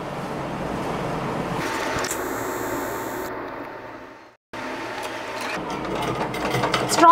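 A sewing machine runs steadily, stitching a frill onto a pillow cover made from old tops, pausing briefly near the middle before whirring on again, close and fairly loud.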